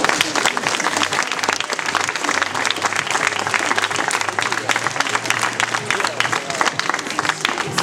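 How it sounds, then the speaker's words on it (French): Audience applauding at a dog obedience demonstration after a handler and a Belgian Malinois shepherd are introduced, dense sustained clapping from a crowd, loud and continuous with a low hum underneath. "vous pouvez les applaudir très fort"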